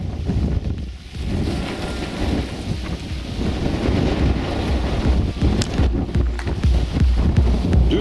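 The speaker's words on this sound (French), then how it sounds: "Du vent, du vent, du vent." Steady, loud wind buffets the microphone throughout an outdoor rally-raid event, a continuous low roar with gusty swells and no speech.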